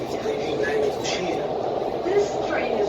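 A Doha Metro Gold Line train runs with a smooth, steady rumble and faint high squeals, while someone talks over the interior noise.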